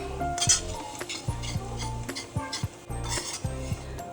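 A spoon scrapes and stirs sooji malai halwa of semolina, milk and cream around a metal vessel, giving irregular clinks and scraping strokes close by, with faint background music and no talk.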